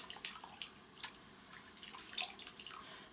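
Water trickles and splashes from a tap into a sink while shaving, a steady faint running with irregular drips and splashes, close and without talk.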